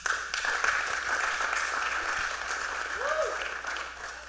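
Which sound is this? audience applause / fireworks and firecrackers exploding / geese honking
audience applause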